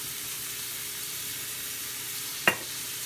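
Garlic, onion and green chillies sizzle steadily in hot oil, a constant loud hiss with one brief sharp crackle near the end.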